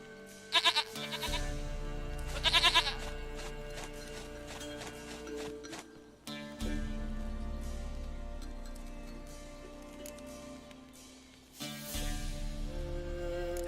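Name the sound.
goat bleating in the video game The Witcher 3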